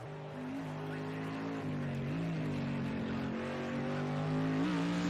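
An Aston Martin race car in a racing game laps a track at night, its engine a steady droning whine with small pitch shifts as it changes gear, fairly faint.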